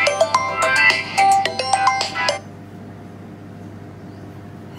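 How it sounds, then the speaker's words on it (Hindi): A phone ringtone for an incoming call chirps loud and close in a quick repeating tune for about two and a half seconds, then cuts off, leaving only faint room hum. "फोन आ रहा है व्यूअर्स फोन आ रहा है"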